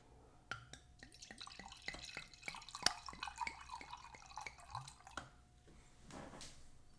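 A drink is poured into a glass in a quiet room right after the bottle is cracked open, giving a run of small, close liquid drips and gurgles at an irregular rhythm for several seconds.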